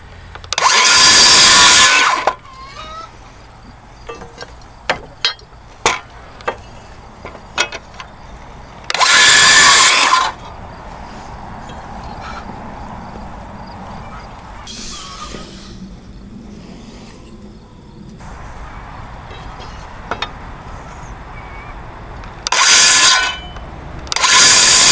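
A power saw cuts two 2x2 boards to length, producing four loud, roughly two-second bursts spread across the clip, separated by quieter stretches of knocks, clicks and handling of the wood.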